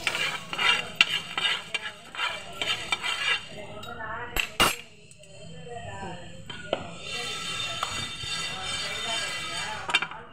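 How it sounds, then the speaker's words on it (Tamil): Coriander seeds dry-roasting in a pan for homemade garam masala, stirred with a spatula: repeated scraping and rattling strokes with a faint sizzle and occasional clinks of metal, a brief pause midway, and muffled voices in the background. "லாஸ்ட்டாக மல்லியை வறுக்கணும்."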